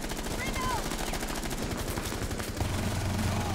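Rapid automatic gunfire in Rainbow 6 Siege, dense and continuous across the whole stretch, with a brief electronic tone near the start.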